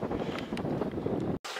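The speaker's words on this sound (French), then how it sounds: "Là il y a du vent" Wind buffets the microphone on a hike at Alkurruntz, a steady close rumble and rustle with a brief dropout near the end.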